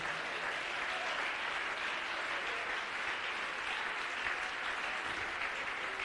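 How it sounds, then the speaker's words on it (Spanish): A church congregation applauds together in a steady, even wash of clapping that stays fairly distant and holds at the same level for the whole stretch, with no voices on top. "Un aplauso para Dios"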